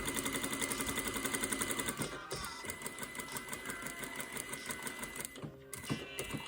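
Sewing machine running a long gathering stitch through fabric, a fast steady mechanical chatter of repeated needle strokes that slows and turns more uneven partway through, close and alone without talk.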